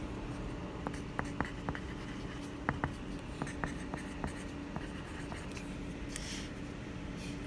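Marker or chalk writes on a board during a math lesson on metric conversion, giving scattered short taps and scratchy strokes that are close and fairly quiet, with no talk over them.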